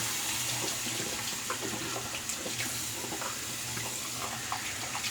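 Tap water runs steadily into a sink to warm a shaving brush, giving a continuous close splashing hiss without pause.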